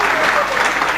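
A crowded conference hall bursts into loud, sustained clapping, a dense even wash of many hands.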